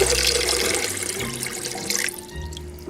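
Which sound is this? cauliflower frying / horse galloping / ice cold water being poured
ice cold water being poured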